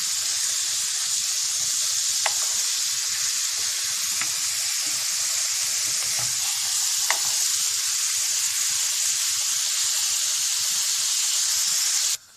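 Curry sauce, opened up in two spoons of vegetable oil, sizzles and fries steadily in a pan. The hiss is broad and continuous with a few sharp pops, and it runs close and alone until it cuts off at the end.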